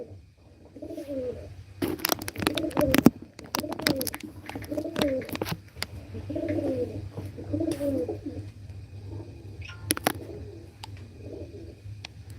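Pigeons coo in repeated low, rolling phrases at a steady pace, with occasional sharp clattering bursts and a faint background hum.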